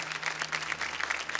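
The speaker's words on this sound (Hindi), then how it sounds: "भाई जोरदार तालियां" Audience applause at a folk singing reality show, a dense, even patter of many hands clapping that holds steady throughout, with no voices over it.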